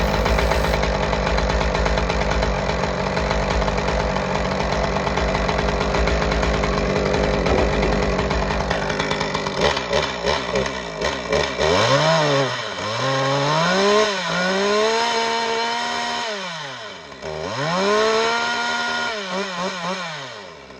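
A chainsaw runs during tree work, idling steadily at first and then revving up and down in several loud, close surges. There is no talk.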